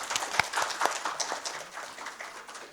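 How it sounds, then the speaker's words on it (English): A round of applause from a seated audience at a recruiters' round table as a speaker is welcomed, brisk clapping that starts strong and gradually thins out. "Please welcome him with a big round of applause."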